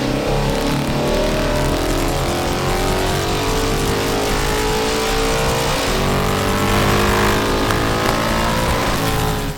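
A Holden VL HDT Commodore revving hard on dyno rollers, with a loud, sustained engine roar that climbs steadily in pitch through the gears, close and continuous without speech.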